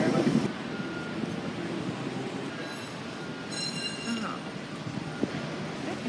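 A tram rolls in with a high metallic wheel squeal and steady rumble, broadband noise throughout, with a brief voice near the start.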